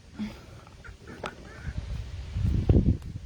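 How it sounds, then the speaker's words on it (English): A few startled chickens squawk and cluck in short, scattered bursts nearby, growing a bit louder toward the end. "I scared the chickens."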